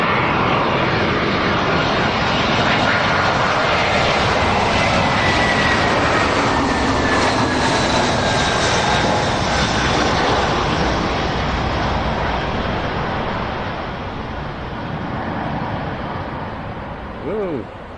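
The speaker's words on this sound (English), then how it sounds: "I think this is a Bulgarian registered A320" An all-white Bulgarian-registered Airbus A320 airliner at Lanzarote Airport roars past loudly and continuously, its engine whine shifting in pitch as it goes by, with a voice talking faintly underneath.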